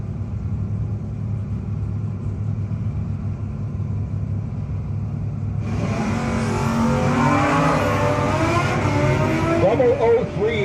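No-box drag racing at a 660 shootout: a steady low engine rumble, then a loud surge of roaring, revving engines as cars launch and pull away down the strip, with an announcer's voice over the noise.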